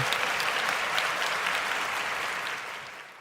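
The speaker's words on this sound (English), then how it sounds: "Now, for those that are super chatting, round of applause to you." A burst of crowd applause on a live sports-talk stream about the 49ers and Rams, full and even at first, then tapering slightly toward the end, with no talking over it.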